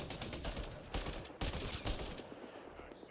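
Rapid bursts of automatic gunfire from Mass Effect Andromeda combat crackle in quick succession, loud and dense, with several sharp shots standing out before the firing thins toward the end.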